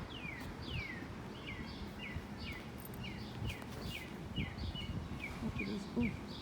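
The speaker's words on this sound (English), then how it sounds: "That really does sound like a cardinal." A northern cardinal sings a steady series of clear, downward-slurred whistles, repeated in quick rhythm over a low murmur of background noise.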